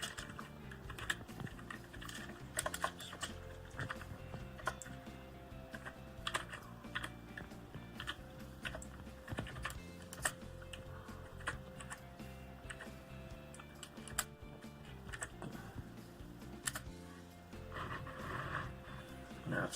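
Code typed on a computer keyboard for a Raspberry Pi motorsports data logger, with a continuous run of close, crisp keystrokes in an uneven rhythm and no speech.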